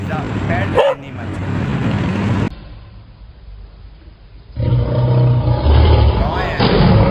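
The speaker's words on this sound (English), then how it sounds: "Dog. This is a pet animal." A dog barks in short, sharp bursts, loud and close, with a narrator speaking before and after the barking.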